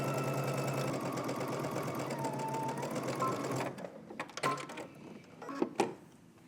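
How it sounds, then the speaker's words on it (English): A sewing machine stitches a 5/8-inch seam on a wrap dress, a fast steady mechanical whirr for several seconds that then stops, followed by scattered clicks and handling knocks nearby. "now let's head over to the sewing machine and we're gonna stitch using 5/8 of an inch seam allowance."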